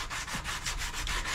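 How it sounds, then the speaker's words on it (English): Sandpaper is rubbed briskly back and forth along the wooden neck of an electric guitar, producing a close, steady rasping scrape in quick repeated strokes. "I'm gonna get a piece of sandpaper, and I'm gonna do some work"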